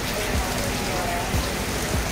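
Rain falling steadily outside a two-storey 12x120 building in Riau, heard as a continuous broadband hiss that stays even throughout, with no talking.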